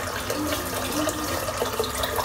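Water runs steadily from a tap into a sink, a continuous close hiss and splash with no pauses, for wetting a head before a shave.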